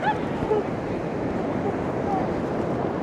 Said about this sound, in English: That's why they're called sneaker waves.